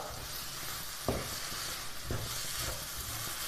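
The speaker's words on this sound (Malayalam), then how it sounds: "പാല് ചേർത്ത് നന്നായിട്ട് ഇളക്കി യോജിപ്പിച്ചെടുക്കുക." Semolina being stirred with milk in a pan at home, a steady soft simmering hiss with a few sharp scrapes of the spoon against the pan, close and fairly quiet, with no voices.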